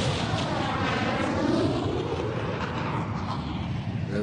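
Argentine Air Force jets attacking from a clear blue sky, a dense, continuous roar of aircraft and explosive rumble that fills the whole clip at steady loudness, with no voices.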